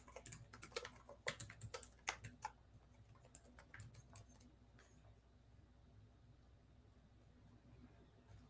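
Keys clatter on a computer keyboard in quick bursts of clicks during security work, loudest in the first few seconds, then trailing off into scattered taps over a faint background hum.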